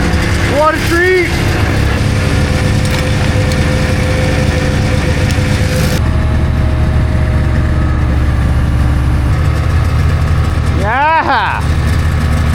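A 1980 Caterpillar-powered truck engine idles with a steady, heavy low rumble that continues throughout. Excited voices speak over it briefly, near the start and near the end.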